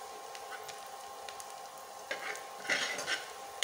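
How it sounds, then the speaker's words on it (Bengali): Onions fry in oil in a pan for a hilsa fish curry, giving a steady close sizzle, with stirring scrapes and a few clinks of a spoon against the pan. "এখানে কিছু পেঁয়াজ দিয়েছি, এখন এটাকে ভেজে নেব।"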